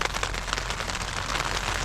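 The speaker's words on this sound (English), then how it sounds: "I think you can probably see the rain on the tent fly." Rain patters steadily on a taut tent fly nearby on a Pacific Crest Trail thru-hike, a dense, even drumming of drops with no voices.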